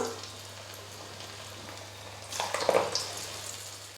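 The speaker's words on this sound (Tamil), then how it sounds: "இதே போல் மீதி இருக்கிற மாவை எண்ணெயில் போட்டு நம்ம பொரிச்சு எடுத்துக்கலாம்." Onion and rice flour pakoda batter drops into hot oil for deep-frying, a quiet bubbling hiss that swells into a louder crackling burst midway, then settles.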